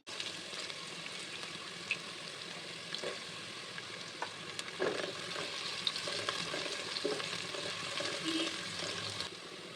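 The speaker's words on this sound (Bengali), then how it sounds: "পেঁয়াজ রসুন আর মরিচ এই সব উপকরণগুলোকে হচ্ছে হালকা বাদামি রং করে ভেজে নিয়ে" Chopped onion, garlic and chili frying in oil in a pan, a quiet steady sizzle with occasional small pops and faint stirring clicks, heard close and alone.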